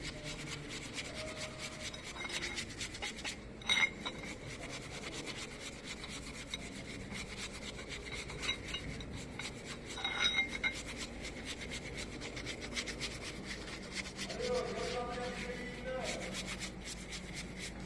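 A brush scrubbing through a thick layer of grease with degreaser, a continuous rough rubbing and rasping with a few sharper knocks, fairly quiet and close, with a little talk in the background.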